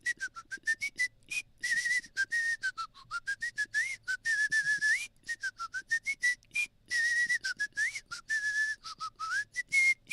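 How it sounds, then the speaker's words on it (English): Person whistling a melody from the Final Fantasy 3 game soundtrack, a clear close-up tune of short phrases with sliding pitches and brief pauses, alone without talk. "Wait, you don't like my whistling?"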